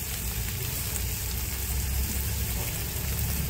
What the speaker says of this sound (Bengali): মশলাটাকে আরেকটু আমি কষিয়ে নেবো নাড়াচাড়া দিয়ে